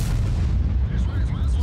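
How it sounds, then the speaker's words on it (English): Artillery fire in the World of Tanks video game, heavy booming blasts rumbling continuously through a short stretch, loud and low with some faint higher tones over the top. "the only bad thing is this artillery. This arty is really quite annoying."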